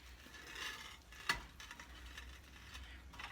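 A heavy Southern cornbread dressing being stirred in a pan, with soft, quiet scraping and moist squelching and one sharper clink of the utensil partway through.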